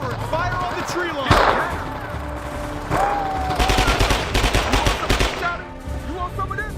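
Gunfire aimed at a tree line in the Vietnam War game Men of Valor, with sharp single shots and rapid automatic bursts cracking in clusters amid battle noise and distant shouting voices.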